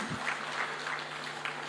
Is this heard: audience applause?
yes